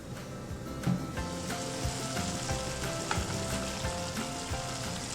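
Spaghetti and flat green beans braise in a pan over low heat, giving a steady close sizzle and bubbling with soft scraping stirs and occasional clinks throughout, with no talking.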